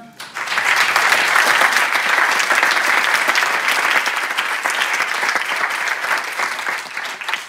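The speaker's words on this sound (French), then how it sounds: "Je pense qu'on peut tous les applaudir" Audience applause at a French social and solidarity economy gathering rises quickly and holds as a dense, steady wash of clapping for several seconds, easing only slightly toward the end.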